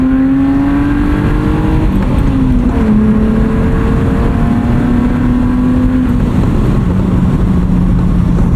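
A 1995 BMW E36 325i with a five-speed manual drones steadily from inside the cabin, its inline engine note slowly rising and dipping, the sound echoing off semi-trailers on a bumpy road, loud and continuous.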